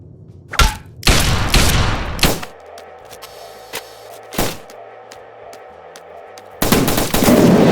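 Machine gunfire in Fallout 3 while attacking a settlement: several loud, sharp bursts and single booming shots separated by short gaps, ending in a sustained rattling volley, close and forceful.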